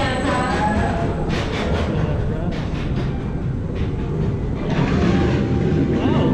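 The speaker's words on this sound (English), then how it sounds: "We're gonna ride the ray, feel the rush, and have a blast on this amazing coaster." The Manta roller coaster at SeaWorld San Diego rumbles along its track in a loud, continuous rush, with riders' voices and shouts breaking through in bursts.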